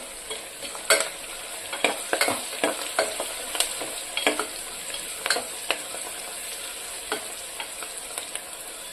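Turmeric and salt stirred into a frying Vankaya Aloo (brinjal and potato) curry: a steady close sizzle under a series of sharp spoon scrapes against the pan, repeating every second or so.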